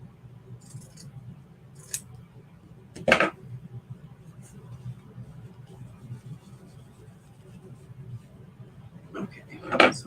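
Scissors snipping off the edge of a ribbon for a door-round wreath, two short crisp cuts a few seconds apart over a low steady background hum, close by.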